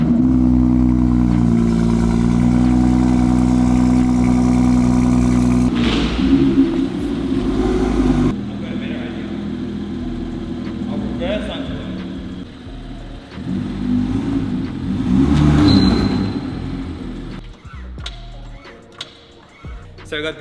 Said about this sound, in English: You want some cold start action?